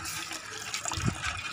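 Water is poured in a short, faint splashing trickle, with a brief burst of gurgling near the end, in an outdoor festive setting.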